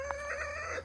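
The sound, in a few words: chickens and rooster in a flock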